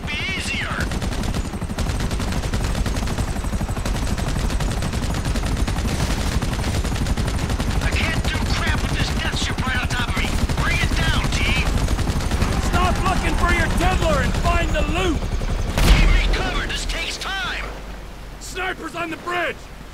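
Gunfire from shooters in Grand Theft Auto 5 crackles as dense, continuous bursts through a steady rainy wash, with shouted game dialogue over much of it and a louder burst near the end.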